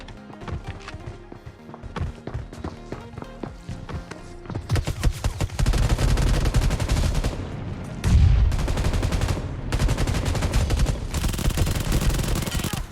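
Rapid bursts of automatic gunfire from PUBG Mobile play, scattered single shots at first and then dense sustained volleys that grow louder and nearer, with no talking.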